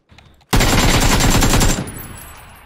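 Rapid automatic gunfire in PUBG, a loud sustained burst of closely spaced shots lasting over a second after a quiet start, then fading into a decaying echo.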